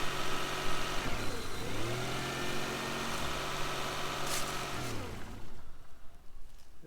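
Small car with a roughly 3-liter engine, just revived with a portable jump starter, idling and revving steadily nearby with a rising and falling pitch and no talk over it.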